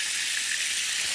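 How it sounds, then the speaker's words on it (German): Meat searing in a hot pan, browning on all sides, gives a steady close hiss of sizzling fat that runs evenly without pause. "jetzt muss das hier einfach an allen Ecken rundherum richtig schön anbraten"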